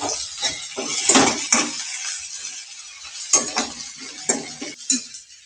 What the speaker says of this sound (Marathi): कांदा ब्राऊन होईपर्यंत परतून घ्यायचा